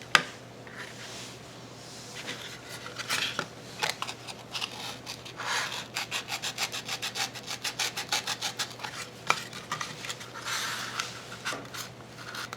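A razor blade carving a bevel along the bottom edge of a foam board former for a P-51 Mustang model plane, close rhythmic scraping strokes that quicken into a dense run of rasping cuts, with no voices.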